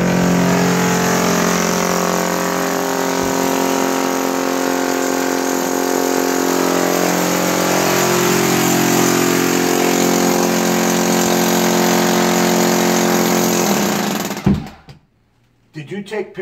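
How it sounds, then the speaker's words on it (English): A loud, steady mechanical drone of a jackhammer or saw running continuously for a long stretch during sewer line and septic tank work, then cutting off abruptly near the end. "You can hear the jackhammer or the"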